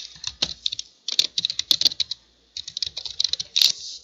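Rapid clicking keystrokes on a computer keyboard as an email address is typed, close and clear, in quick irregular bursts with a short pause midway.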